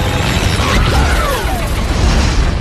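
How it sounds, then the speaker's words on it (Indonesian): In a film scene a man suddenly explodes, a loud rumbling blast with a sweeping whoosh that fills nearly three seconds under steady, dense noise. "Seketika Savin menghajarnya, bersamaan Jack tiba-tiba meledak"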